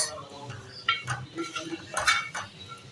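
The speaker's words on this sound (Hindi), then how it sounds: "वो मैं इसमें शामिल कर दूँगी और इसको हम कर लेंगे जी मिक्स" Boiled black chickpeas being mixed in a bowl for chaat make faint, irregular spoon clinks and scrapes against the dish, close and sparse.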